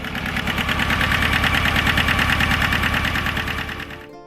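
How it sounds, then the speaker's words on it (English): Rumbling John Deere 650 compact tractor engine runs close and loud with a steady knocking pulse, then fades away near the end, with no talking. "the deep rumble of the John Deere 650 filled the air"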